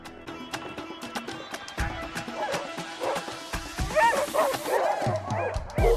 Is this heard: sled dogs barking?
yes